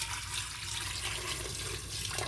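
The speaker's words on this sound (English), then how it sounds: "So I'm going to add my hot water." Hot water pours steadily into a cooking pot of oily sauce, a continuous close splashing and hissing flow that lasts the whole moment, with no talk.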